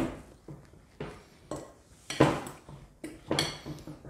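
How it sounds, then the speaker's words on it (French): A spoon stirs a small amount of milk and water in a bowl or pot while making papette, giving repeated scraping, clinking strokes about every half second, close and fairly loud, with no talking. "Je mélange, je mélange, je mélange."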